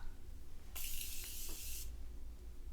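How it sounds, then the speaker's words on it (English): A makeup setting spray gives one continuous fine misting hiss lasting about a second, close and clear against a quiet room, with no talking. "And this is my favorite setting spray. It goes on beautifully."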